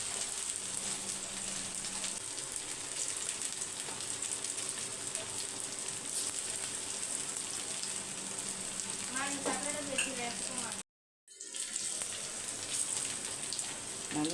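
Okra sizzling steadily in hot oil in a home kitchen, a continuous crackling hiss like rain, briefly cut off near the end, with a voice speaking faintly over it.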